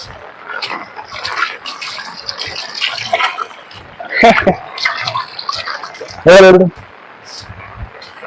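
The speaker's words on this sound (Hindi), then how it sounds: "जो नदी भी फूल आई गई है।" A flooded river rushes steadily in the background after heavy rain, with a person talking over it and a brief louder burst near the end.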